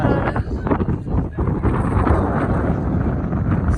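Strong wind sweeps across a hilltop at Sailung in Nepal, buffeting the microphone with a loud, constant low roar and gusty rumble throughout.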